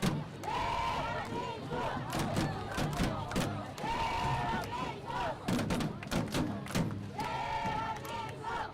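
A stadium crowd at a women's football gold medal match between Brazil and South Korea roars and cheers steadily under continuous commentary, with occasional thumps and louder swells.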